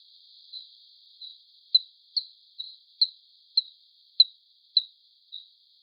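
Pitch-shifted bat vocalizations: a series of about ten short, sharp chirps in a narrow high band, evenly spaced roughly every half second, clear and isolated against silence.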